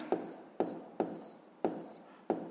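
Pen writing down a math answer on paper, five distinct strokes in a steady rhythm, close and quiet, with no talk.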